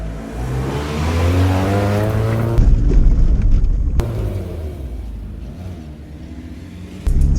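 A Mitsubishi Evo III GSR is driven hard, its engine revving loudly and close, climbing through the rev range, then shifting gear with a brief break and pulling again.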